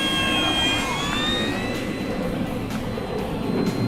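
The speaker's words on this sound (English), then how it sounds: "I'm gonna go ahead and bring her on in for just sort of a slow pass, clean for you." An FMS F4U Corsair 1700mm RC warbird model flies a slow, clean pass. Its engine whine slides down in pitch as it goes by, over steady outdoor noise, with no talking.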